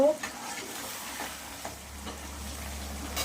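Desi chicken with potatoes frying in a pan, a low steady sizzle with several scraping stirs of a spatula, close and moderately quiet, without speech.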